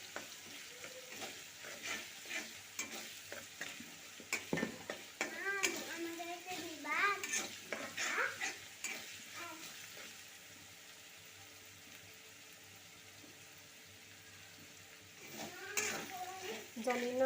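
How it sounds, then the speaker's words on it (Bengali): Hilsa fish goes into a pan of fried spice paste, setting off a steady sizzle and stirring scrapes, while a voice talks over much of it before the frying settles into a quieter, even crackle. "মশলা কষানো হয়ে গেলে মাছ দিয়ে দেব।"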